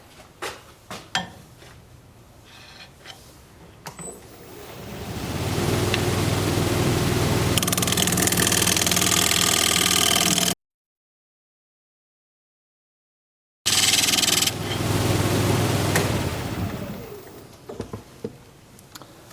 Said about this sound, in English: I think I'm going to try and scrape this before I get to the bottom.